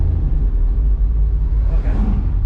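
A 1967 Chevy Nova running on 87-octane pump gas is held at wide open throttle, a loud, close, deep engine rumble that stays steady with a slight surge near the end.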